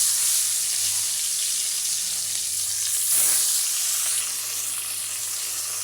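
Rohu fish frying in hot oil in a wok, a loud continuous sizzle and crackle with a brief surge partway through as pieces shift, steady and close throughout.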